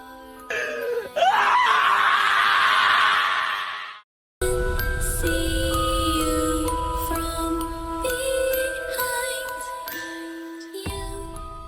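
A man screams in a Hindi horror story: a loud, sustained anguished cry lasting a few seconds, cut off abruptly, followed by music with tinkling tones.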